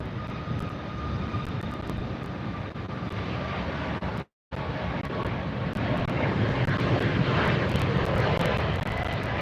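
A Southwest Airlines jet passes at LAX, giving a steady moderate engine roar and rush that builds slightly toward the end, broken by one brief dropout midway.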